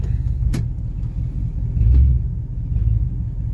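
An old Oldsmobile with a newly installed transmission rolls along on a test drive, its low engine and road rumble steady and close from inside, with a couple of brief knocks along the way.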